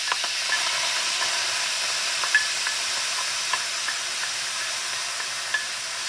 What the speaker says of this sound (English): So I'm going to start by stir frying onions.